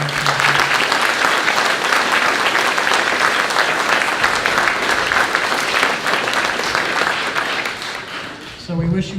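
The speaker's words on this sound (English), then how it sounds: "Mrs. Green definitely deserves a raised round of applause for all she's done for you." Sustained, loud applause from a large graduation audience fills the room, dense and steady clapping lasting several seconds before tapering off abruptly near the end as a voice starts.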